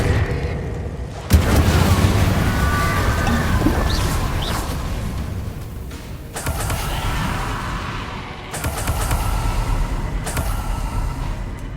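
Incendio fire spells cast in Hogwarts Legacy, several loud whooshing bursts of flame with sharp onsets, each trailing into a roaring rumble, repeated through the stretch with no voices.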